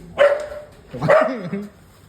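Two loud, close dog barks spaced about a second apart, the second drawn out into a short whining tail.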